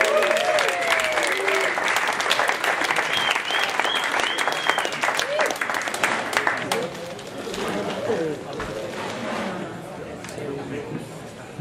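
Loud, enthusiastic audience applause for the act Rudy and the Swedish Girls, dense clapping mixed with crowd chatter and whoops, gradually easing off toward the end.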